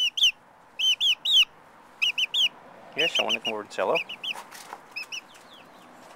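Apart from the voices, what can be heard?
pet chickens clucking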